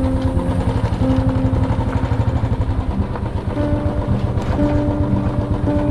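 A motorbike engine runs steadily nearby with a low, pulsing drone that holds level throughout.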